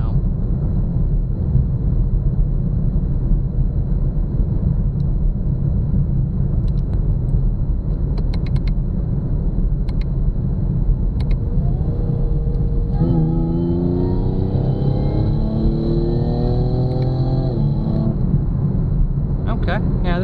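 Eaton 1.7L supercharger on a 2018 Camaro with the LGX V6, droning steadily under loud road rumble while cruising, then a rising whine with clear harmonics that climbs for several seconds near the end.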